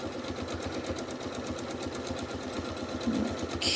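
Janome sewing machine doing free-motion stitching on a doodle pattern, a continuous fast even whir of needle strokes, close and steady throughout.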